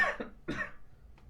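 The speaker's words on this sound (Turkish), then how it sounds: "Video içinde öksürebilirim" A person coughs a few times in short, dry bursts, close and fairly quiet, with nothing else around.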